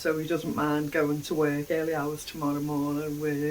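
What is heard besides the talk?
No distinct noise like a dog, phone or traffic.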